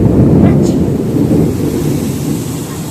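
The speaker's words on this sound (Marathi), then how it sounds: "गडगडच आहे पण जोर जोरात एकदम." Loud rolling thunder rumbling through a heavy rainstorm, deep continuous roar with rain and wind buffeting the microphone, close and dominant throughout.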